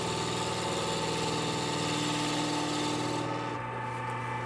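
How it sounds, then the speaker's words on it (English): Continuous rasping scrape of a spindle gouge cutting a spinning wooden blank on a lathe, steady and close with a humming motor underneath, easing off near the end. "that's the spindle gouge"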